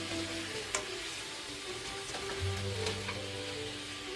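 Frozen spinach and potatoes for aloo palak fry in a pan with a soft, steady sizzle and a few faint clicks of stirring, quiet and close.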